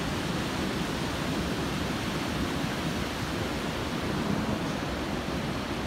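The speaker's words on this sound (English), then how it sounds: "The big waves coming." Pacific Ocean waves breaking on a beach, a continuous broad roar of surf that holds steady at moderate loudness with no speech.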